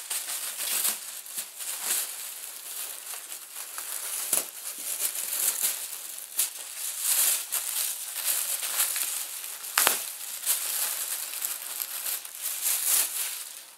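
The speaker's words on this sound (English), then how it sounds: "Again, I'm going to be trying to use these scissors." Plastic crinkles and rustles close by, with occasional sharp snips and crunches of scissors cutting through the bag, continuing steadily.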